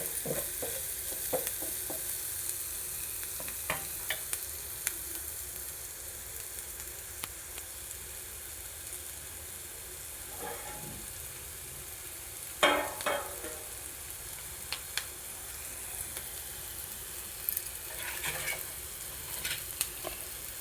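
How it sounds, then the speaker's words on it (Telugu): Onions frying in a pan for a paneer and pea curry, a steady soft sizzle with occasional scraping stirs and spoon clicks throughout, fairly quiet and close with no talking. "ఉల్లిపాయలు వేసినాయంటే ఎంత చక్కగా పట్టినాయో అండి."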